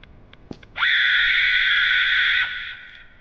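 A single sustained high-pitched scream from the video game Walking Home, loud and steady for nearly two seconds before cutting off, preceded by a few faint clicks.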